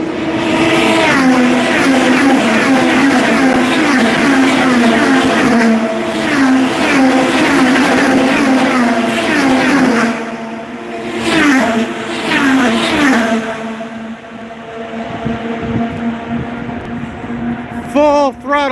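IndyCar race cars at the Honda Indy Toronto scream past at full throttle down the back straight, a loud sustained engine wail with shifting pitch as the cars sweep by, fading near the end while people talk over it.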